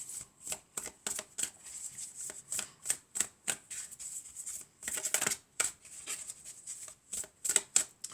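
Fairy tarot cards being shuffled and handled, a steady run of crisp papery riffles and flicks repeating in quick bursts, close and fairly loud with no talking.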